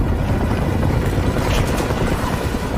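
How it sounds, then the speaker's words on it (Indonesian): A helicopter flying overhead, producing a dense, continuous rotor rumble that stays loud and steady throughout, with a voice faintly underneath. "datang satu helikopter yang menembaki"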